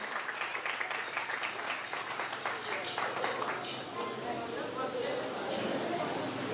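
A church congregation applauds during a children's prize distribution on Resurrection Day, with steady dense clapping under voices throughout.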